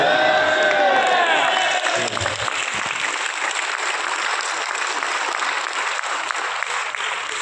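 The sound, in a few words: audience applauding at an RCM event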